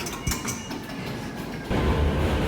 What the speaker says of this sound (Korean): 맨해튼 방향으로 가는 지하철을 탔어요.